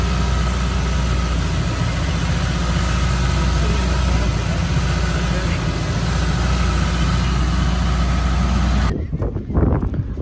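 A Toyota 3SGE engine idling high, a loud steady drone with a constant tonal hum close to the microphone, cutting off abruptly near the end to faint handling noise.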